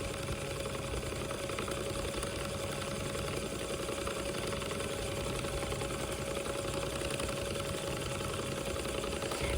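The motor of an electric spinning wheel (e-spinner) runs in a steady, continuous hum with a faint constant whine, unchanging and fairly quiet throughout, with no one speaking.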